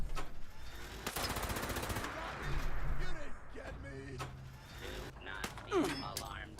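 Rapid gunfire from the Fallout 76 Pitt update crackles in sharp bursts and scattered single shots, moderately loud amid game clatter, with a voice speaking over part of it.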